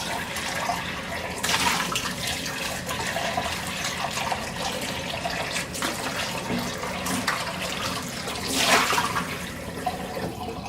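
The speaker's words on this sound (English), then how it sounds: "that's how you wash the stone bowl" Running water rinses and washes a stone bowl, a steady splashing flow broken by louder sloshing bursts near the start and again toward the end, with no talking.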